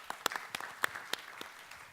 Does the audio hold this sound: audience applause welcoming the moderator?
yes